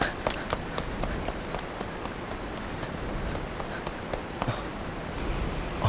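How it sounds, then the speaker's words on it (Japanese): Heavy rain pours in the PS2 game Blood: The Last Vampire, a dense, steady hiss with scattered sharp taps running throughout at constant loudness. "雨が激しく降り始める中、"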